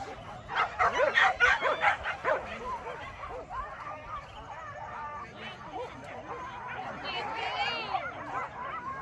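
Several dogs bark and yip in rapid bursts, with whimpers and a hubbub of voices and outdoor noise continuing around them.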